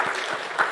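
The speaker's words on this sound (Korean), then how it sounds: "축하와 격려의 박수, 환영의 박수 하도록 하겠습니다" A church congregation applauds to welcome new members who have just finished the newcomer class, a steady broadband clapping with slight swells and no voices over it.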